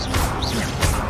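Incendio fire spell cast in Hogwarts Legacy, a burst of crashing, whooshing impacts with a loud hit near the start and another near the end, all close and forceful.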